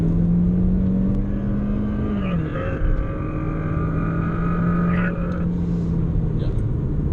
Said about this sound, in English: It's an angry engine. Small but angry.